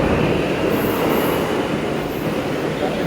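A metro train at RK Ashram metro station in Delhi makes a steady, loud, close rumble with rail hiss and faint high wheel squeal throughout, and no voices.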